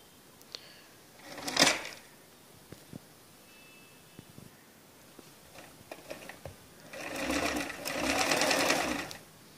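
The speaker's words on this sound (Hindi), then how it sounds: "और इस पर सिलाई लगा देनी है।" A sewing machine stitches beside the piping on a blouse, running in one short burst early, then a long steady whir toward the end, with faint clicks and handling between.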